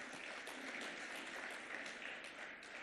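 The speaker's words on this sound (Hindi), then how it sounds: "महिलाओं ने तो ताली बजा दी" Faint, distant applause from women in the audience at an economic conclave hall, a steady, even wash of clapping with no talk over it.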